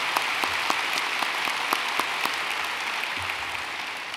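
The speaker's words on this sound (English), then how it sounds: "that deserved applause." Convocation audience applauding the commissioner of the Massachusetts Department of Public Health, a steady wash of many hands clapping from a moderate distance, with a few sharper nearby claps standing out.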